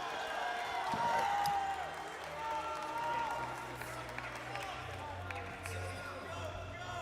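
Scattered crowd clapping and a few whoops at a men's NCAA gymnastics meet between William & Mary and Navy, faint and distant in the gym, with a commentator talking over it.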